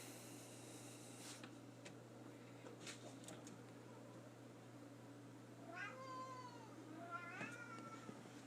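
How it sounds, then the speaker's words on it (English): A house cat meows twice in the latter half, short rising calls heard close but soft over a steady fan-like hum and a few faint knocks. "What are you meowing about?"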